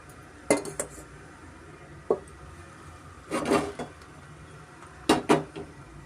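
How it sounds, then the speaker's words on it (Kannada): Metal kitchenware clanking as a pressure cooker is set down and a spoonful of oil is added, a few separate clinks and knocks in small clusters, close and quiet against a low background hum. "ಮೊದಲಿಗೆ ಒಂದು ಕುಕ್ಕರ್ ಇಟ್ಕೊಂಡು ಒಂದು ಸ್ಪೂನ್ ಎಣ್ಣೆ ಹಾಕ್ಕೊಂಡು"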